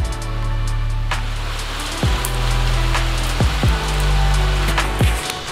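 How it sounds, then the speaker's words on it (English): Steady rain in Cappadocia, Turkey, patters down on a surface, a constant broadband hiss with a low rumble, running without pause and without voices. "Rain, rain, go away."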